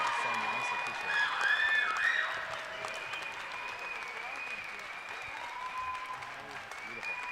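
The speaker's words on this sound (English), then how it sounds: "Please give him a big round of applause" Applause from a talent-show finale audience, a steady wash of many hands clapping that holds for several seconds before easing off slightly.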